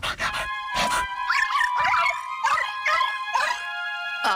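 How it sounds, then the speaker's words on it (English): A ghost dog in the video game Luigi's Mansion: Dark Moon barks, yelps and whimpers in repeated loud, close bursts that rise and fall in pitch. "where did that ghostly dog come from?"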